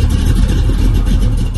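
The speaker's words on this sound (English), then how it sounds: "Let y'all hear this cold start, man." A lifted Box Chevy with a V8 and headers runs loud and close during a cold start, its rough, throbbing exhaust rumble steady through the whole short stretch.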